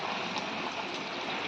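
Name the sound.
water poured into a pan of cooking chicken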